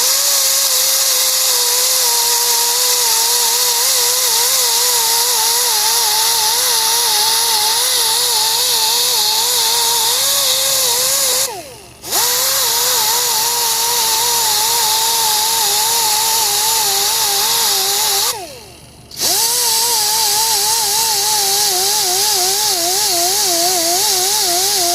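An angle grinder with a 60 grit disc grinds out a damaged spot on a wheel rim, giving a loud, steady whine that wavers in pitch and cuts out briefly twice, with no talking.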